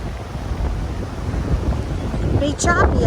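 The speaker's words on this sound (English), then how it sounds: "It's windy." Wind buffeting the microphone at a boat ramp, a continuous low rumbling roar, with a brief voice near the end.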